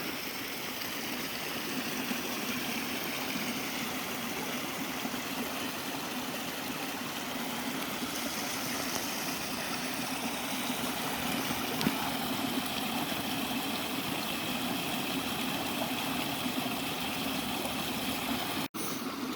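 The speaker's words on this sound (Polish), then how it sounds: "A tu Was zostawiam jeszcze na chwilę z dźwiękiem strumyku." A mountain stream in winter, near Śnieżka and the Śnieżne Kotły cirques, flows with a steady, even rushing hiss that stays constant and fairly quiet the whole time, with no talking.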